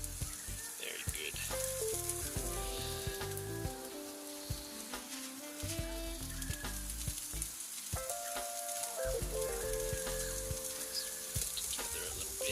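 Steak sizzles steadily over open flames, a dense continuous frying hiss close by, with a faint voice in the background.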